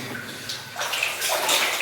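Cold water sloshes and gurgles inside leaking waders while wading through a flooded old mine, a close, continuous washing and splashing that swells louder toward the end, with no talking.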